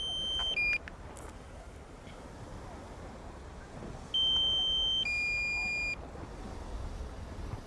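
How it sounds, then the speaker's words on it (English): Steady electronic beeping from a drone's low-battery warning alarm, a short chirp followed by a longer high tone that holds for a couple of seconds, over faint outdoor background noise. "So sorry about the beeping noise."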